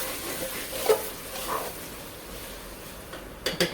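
Chicken pulao is stirred as it fries in a pan: a soft, low sizzle with a few faint scraping stir strokes, one early and a short cluster near the end.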